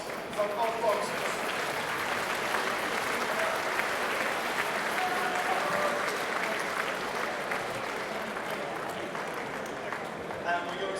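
A crowd at a boxing event claps steadily for both fighters after the bout, a continuous wash of applause filling the hall for the full length, fairly even in loudness.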